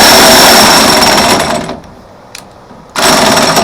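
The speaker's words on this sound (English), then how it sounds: "This is just an old cheap drill I've had forever from Walmart." An old, cheap Walmart drill driving a power log turner on a Wood-Mizer LT20 sawmill as it rolls oak logs, whining loud and close, cutting out briefly, then roaring back.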